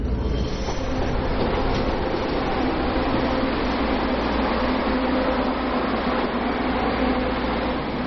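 Crowded passenger train rolling along its line on the way to Shifeng village, a steady loud rumble of wheels on rails with faint clatter, continuous throughout with no talk.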